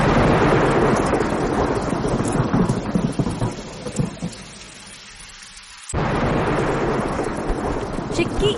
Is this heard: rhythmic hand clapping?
no